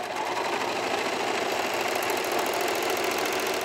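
A serger sewing machine stitches a 3-thread wide stitch on swimsuit fabric, a fast, even mechanical whir with rapid rhythmic ticking, close and continuous throughout with no talk.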